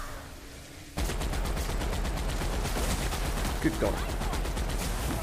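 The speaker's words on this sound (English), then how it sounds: "we should try out the heavy machine gun" Heavy machine gun in The Outer Worlds opening up in a sustained, rapid automatic burst that runs for several seconds, loud and close, with a brief spoken exclamation over the gunfire.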